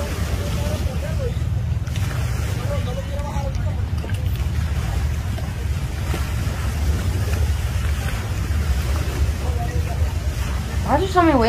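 Loud, constant ocean wave and water rush in a video game with boats, a steady low roar that fills the whole stretch while a voice speaks briefly at times.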